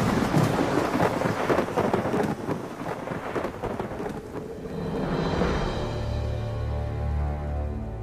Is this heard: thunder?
yes